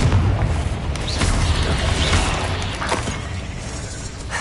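Confringo spell blasts in Hogwarts Legacy, a burst of booming, crackling explosions with scattered pops and debris over continuous rumbling combat noise.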